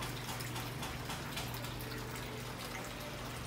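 Water draining from a home washing machine after washing clothes, a faint, steady gushing and trickling flow that continues evenly without interruption.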